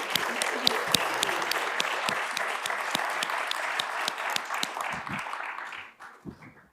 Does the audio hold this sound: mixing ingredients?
no